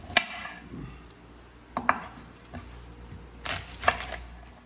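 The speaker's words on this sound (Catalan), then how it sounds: "Pelem i tallem una pastanaga" A knife chops a carrot, an onion and a leek on a board for squid-ink rice stock: a few sharp, sparse cuts with quiet gaps between them, close and with no talk.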